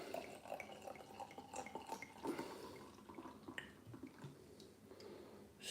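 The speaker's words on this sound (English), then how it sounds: "This is going to go everywhere. I'm just going to pour a little bit in." Jet black beer with a mocha-coloured creamy head, Pomona Island's If I Only Had a Dollar, is poured into a glass: faint, close trickling and splashing liquid with small drips, heard alone in a quiet room.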